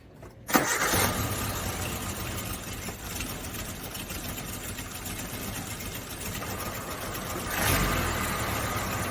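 Suzuki Samurai engine cranks briefly, catches and settles into a rough, uneven idle as though firing on three cylinders, steady and fairly close with a slight rise near the end.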